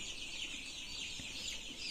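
Young KUB-2 chickens about three weeks old cluck softly in a poultry house, a faint continuous chatter of many birds with a shrill high-pitched layer throughout.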